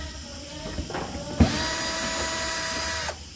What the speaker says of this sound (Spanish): retiremos los tornillos que están acá